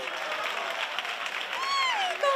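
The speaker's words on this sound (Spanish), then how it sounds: "un aplauso para mí" Audience at a carnival song contest final in San Roque applauds steadily in a hall, a dense patter of clapping while a few voices shout and whoop over it.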